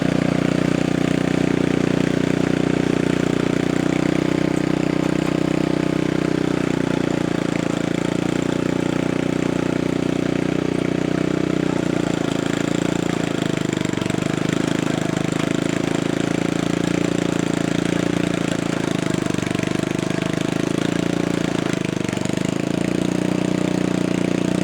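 A Troy-Bilt rototiller engine runs steadily out of gear on a rock and gravel driveway, a loud continuous mid-pitched drone with no break for the whole stretch.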